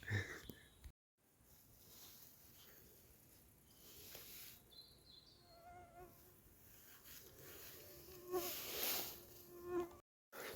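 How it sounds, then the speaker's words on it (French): A dense swarm of mosquitoes whines continuously close around a person in a wild forest at night, the high buzzing rising and falling as insects pass near, with brief gaps and rustling. "Là, je suis en train de me faire déchirer par les moustiques."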